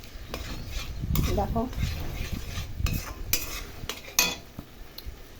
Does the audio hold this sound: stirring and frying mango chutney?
yes